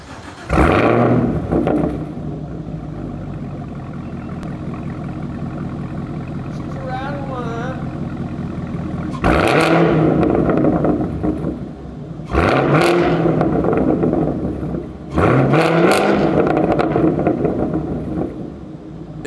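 Camaro ZL1 1LE with a 6.2 liter supercharged V8 and AWE exhaust, starting with a loud bark, then idling in a low rumble before three sharp, loud revs later on, heard up close.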